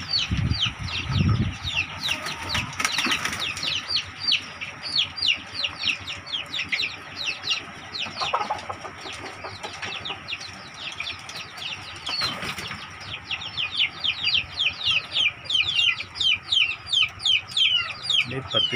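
KUB (Kampung Unggul Balitnak) chickens, four-month-old hens and roosters in a poultry pen, clucking and chattering continuously as a dense flock, with occasional wing flaps and a person talking briefly in the background.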